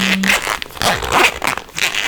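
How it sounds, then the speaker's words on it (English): A bag zipper is pulled in a few quick, rasping strokes, loud and close, with faint crinkling in between. "Videos full of different zipper sounds"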